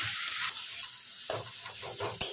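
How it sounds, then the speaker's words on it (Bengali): Pointed gourd and tomato frying in a pan, a steady sizzling hiss broken by a few scraping stirs of the spoon, close and fairly quiet with no talking. "আর টমেটো একটা দিয়ে এগুলোকে ভালোভাবে একটু ভেজে নিচ্ছি।"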